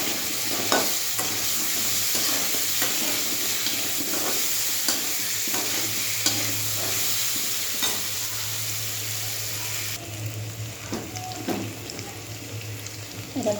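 Onion and ginger-garlic paste sauté in a pan, a steady sizzle broken by repeated scrapes and clicks of a spoon stirring, close and continuous with a low hum beneath.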